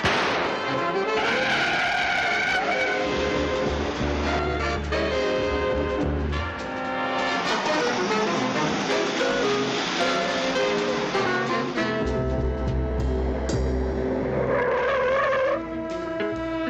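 A car skids with sustained tire squeals in an old television crime drama, loud and continuous over a dense layer of dramatic music, with no voices.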